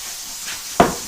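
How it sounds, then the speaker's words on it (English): A steady, hissing sizzle of shrimp pad thai frying in a hot pan, broken once near the end by a sharp metallic clank. "definitely what you want to hear is that sizzle going."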